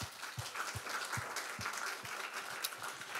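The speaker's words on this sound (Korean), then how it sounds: "우리 박수 한번 할까요?" A church congregation breaks into applause, a moderate wash of clapping heard together with a regular, evenly spaced beat of low thumps, as if some people clap in rhythm.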